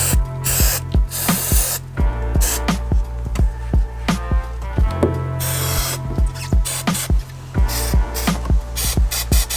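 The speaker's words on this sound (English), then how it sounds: "once you spray it on, you can go ahead and glue it up" Spray adhesive hisses from a can inside a 2021 Ford Transit van during insulation work, coming in repeated short bursts over a rhythmic background beat.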